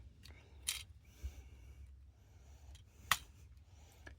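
The plastic feet and toes of a Transformers Haslab Victory Saber toy are folded up, making a few sharp, quiet clicks and snaps spaced apart against a near-silent background.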